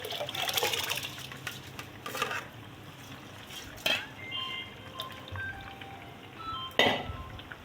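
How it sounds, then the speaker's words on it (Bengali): Bata fish cooking in a pan for a mustard and poppy seed curry, giving a steady close sizzle with a few sharp clinks and louder bursts of spattering, with no one talking. "এই যে মাছগুলো ছেড়ে দিলাম।"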